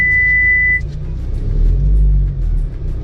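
A Mahindra Scorpio pickup with the M-Hawk 2200 engine driving: deep, steady low rumble from close by with a slight surge in the middle, after a brief electronic beep at the start.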